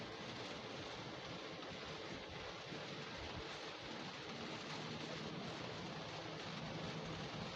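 Rain falls during a road trip toward Tanjung Pinang, a faint, even hiss of drops heard steadily from inside the vehicle for several seconds without voices.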